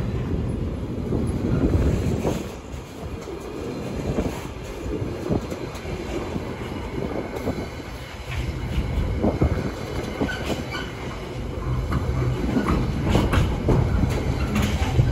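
A heavy, fully loaded freight train hauled by a Class 66 diesel locomotive rumbles past nearby at Ely, with a steady low engine drone and some rattling, wind buffeting the microphone throughout.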